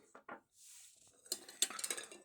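Porcelain plates and a cup being handled, a few soft knocks followed by a brief scrape and then a cluster of bright clinks and chinks of ceramic close by, with no talking.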